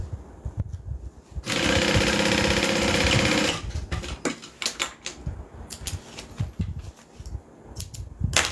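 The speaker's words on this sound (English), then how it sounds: "Sewing these side seams open is going to allow it to lay a little bit flatter" A sewing machine stitches the side seams of a fabric bag in one steady burst of close, loud whirring lasting about two seconds, followed by scattered clicks and handling knocks.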